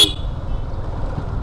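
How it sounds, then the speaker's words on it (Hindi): A motorcycle horn sounds on a winding mountain road at a tight hairpin turn, one short loud toot at the start followed by steady engine and road noise. "अब देखो हॉर्न मारा"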